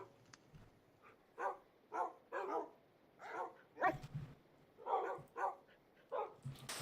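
Several dogs in the Minecraft game bark in a series of short, repeated yips and woofs at a moderate distance, spaced irregularly with a few quieter whimpers between.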